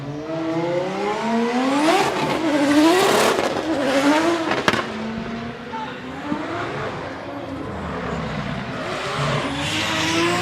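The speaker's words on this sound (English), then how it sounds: "Jerry Zook with Team TMS, racing with JTK and his BMW E92, sitting on a 68" A BMW E92 drift car in Formula Drift Japan qualifying at Okayama International Circuit revs hard with rising and falling engine pitch while its tires squeal loudly through a slide, close and continuous, with commentary faintly underneath.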